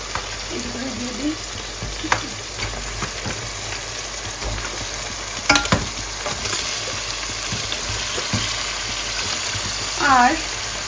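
Washed, cut pieces of meat fry in a pan and are stirred. A dense, steady sizzle is heard up close, broken by scraping and clinks of the utensil, and brief faint voices come through in places.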